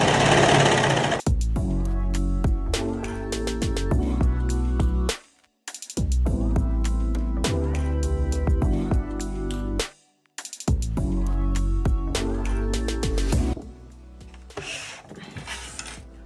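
A serger stitches the seam of a pair of kids' knit shorts, running in three loud, steady bursts of rapid mechanical whirring and clattering separated by brief pauses, close up with no talking.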